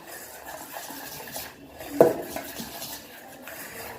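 A spoon stirring batter mixed with Eno powder in a bowl, giving soft, close scraping and one clear clink against the bowl midway, fairly quiet overall.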